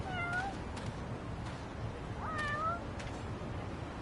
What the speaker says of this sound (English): Look at all these kitties.